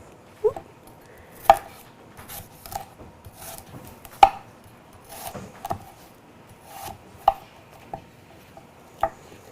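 An apple is chopped on a cutting board with sharp, irregular knife strikes spaced a second or two apart, close and clear with quiet handling noise between the cuts.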